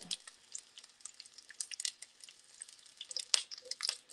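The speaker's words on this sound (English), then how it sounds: "you're going to leave that oil in that you use to fry it" Sage leaves frying in oil in a pan, a faint, steady crackling sizzle with small sharp pops throughout.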